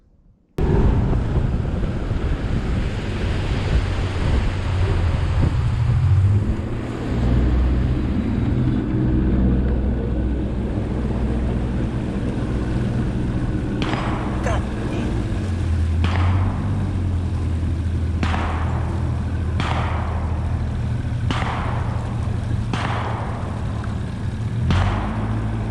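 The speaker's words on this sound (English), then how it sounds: "did y'all hear those shots?" Several sharp gunshots crack in the distance, about eight of them spread unevenly over the final ten seconds, heard from a boat idling on a creek. A steady low outboard rumble and gusting wind noise run throughout.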